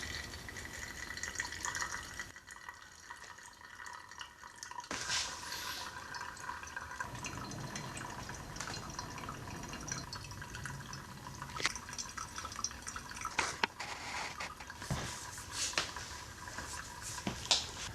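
Coffee draining from a large HandyBrew brewer after a full-batch steep, a steady trickling, dripping flow of liquid with occasional sharper drips and splashes, continuous and fairly close with no talking.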